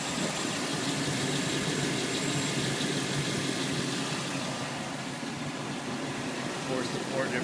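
A 2007 GMC Sierra 2500 4x4 with its 6-liter engine idles under an open hood, giving a steady mid-pitched hum and fan-like whir that holds even and constant throughout.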